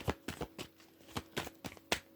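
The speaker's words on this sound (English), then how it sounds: "2 more shuffles." Tarot cards being shuffled by hand in a series of quick, crisp riffling bursts separated by short pauses, close and fairly quiet, with no talking.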